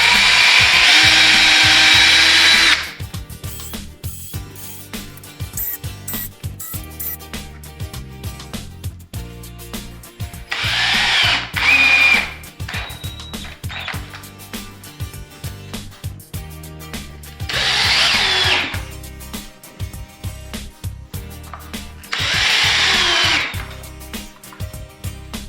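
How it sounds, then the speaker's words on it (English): A power drill runs in several short bursts, whining as it drills and countersinks screw holes in wood for a shelf, with quieter clicks and handling noises between each drilling pass. "So I'm going to drill and then countersink"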